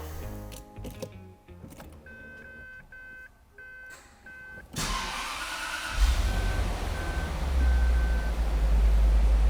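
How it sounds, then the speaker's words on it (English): A 2009 Bentley Azure engine cranks and fires up after a few electronic chimes, settling into a deep, steady idle rumble that grows fuller over several seconds with no talking. "So let's start the car."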